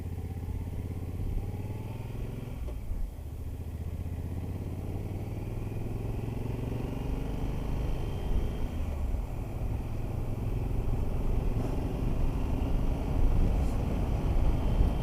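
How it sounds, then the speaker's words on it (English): A Triumph Thunderbird 1700 engine drones steadily while riding, smooth with no rattle, its low hum rising gradually with wind rush and no voices. "you can tell there's an engine there, but it isn't rattling your fillings out"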